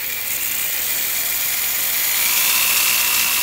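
A power drill whines steadily and loudly as its bit bores out a broken bolt in metal, a continuous high-pitched grinding with no pauses or talk.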